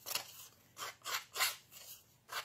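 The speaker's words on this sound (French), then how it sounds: "ça coupe quand même, hein, les côtés des ciseaux" Close-up Stampin' Up scissors cut paper for scrapbooking in five or six sharp, separate snips with short pauses between them.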